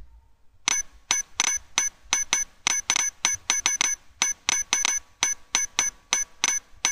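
Bright, clicky domino collision effects from animation software play as rapid bursts of sharp taps in uneven clusters, loud and close with no talking.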